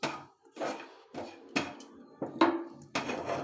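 Fried carrots being tipped into a pot of milk and rice for carrot payesh, followed by stirring, heard as a series of distinct clanks and scrapes of utensil against the pot at an uneven rhythm.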